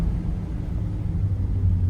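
A 1969 Ford F100 Ranger with a 360 V8 idles steadily, a low even rumble with a smooth throb that holds constant and fairly close.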